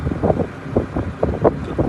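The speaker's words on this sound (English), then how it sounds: "It's windy, it's horrible." Gusty wind buffets the microphone in low, rumbling bursts, rising and falling over a couple of seconds with no one talking.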